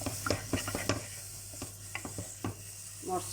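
Onions and spices frying in a pan for a mango fish curry, stirred with a spatula in quick scraping strokes over a soft sizzle, close and fairly quiet.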